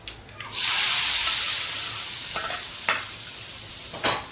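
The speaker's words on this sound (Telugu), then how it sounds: "ఇప్పుడు ఈ చట్నీలో పోసేద్దాం" Hot fried tempering is poured into ivy gourd chutney and bursts into a loud, hissing sizzle that slowly fades, broken by a few sharp stirring scrapes, close up and with no voices.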